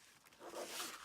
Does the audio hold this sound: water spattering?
no